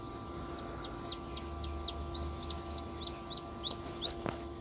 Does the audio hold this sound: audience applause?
no